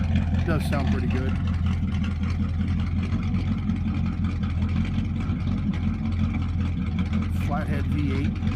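A 1952 Ford F1 pickup with an original flathead V8 idling steadily after a cold start with the choke pulled, a close, continuous low engine rumble throughout, with people talking over it.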